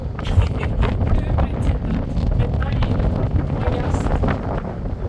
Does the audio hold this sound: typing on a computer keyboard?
no